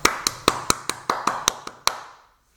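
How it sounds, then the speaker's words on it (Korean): A church congregation claps at the start of a Sunday worship service: about nine sharp, evenly spaced claps in unison ring out in a reverberant room, then the final clap fades into silence. "우리 먼저 한번 주님께 영광의 박수를 드리고 예배를 시작하겠습니다."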